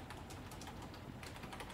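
Quiet, rapid computer keyboard typing, a soft run of clicking keystrokes at close range with no speech.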